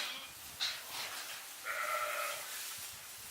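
A goat bleats on a pasture of mixed flowering forage, one short call followed by a longer wavering bleat, faint and somewhat distant over a quiet outdoor background.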